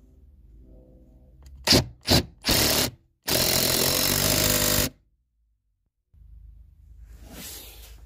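Power tool driving bolts down on a shock and air bag mount of a Mercedes GL/GLE/GLS/ML AMG, heard as three loud close bursts, two short and one longer, then a sustained run of about one and a half seconds before silence.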